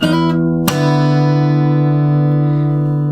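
Two quick guitar strums ring out together, leaving a thick, unmuted chord that sustains loudly with many strings sounding at once.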